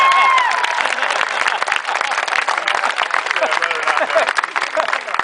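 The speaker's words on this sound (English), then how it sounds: "Give her a round of applause." An audience claps and applauds for a volunteer who has just come up at a live show, a dense, sustained wash of hand claps at moderate level, with a speaking voice weaving through it.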